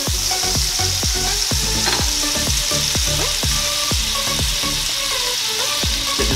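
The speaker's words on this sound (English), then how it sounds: "Get this butter melted a little bit." Butter melts in a hot pan before tuna steaks go in, giving a loud, continuous crackling sizzle with dense popping spatters throughout.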